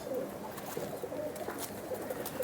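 Pigeons from an old Jammu city pigeon-flying champion's flock coo softly in a steady low murmur, close by, with a faint rustle of background noise.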